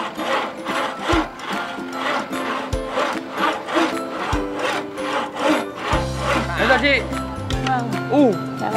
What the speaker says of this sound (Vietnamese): chị cưa cái ống tre này để làm gì thế hả chị?